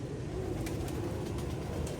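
A pigeon cooing, low soft repeated coos over a constant dense background hum at close range, with no talking.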